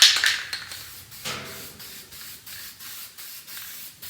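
Bursts of aerosol guide coat spray hiss close up, a long initial blast followed by a rhythmic series of short regular spritzes.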